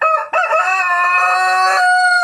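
A pet rooster crows once, loud and close, a long drawn-out call with a brief break near the start before the sustained final note.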